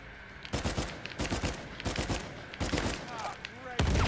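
Bursts of rapid gunfire in the video game Uncharted 4, fired in repeated volleys that come and go, close and loud, ending in a heavier blast.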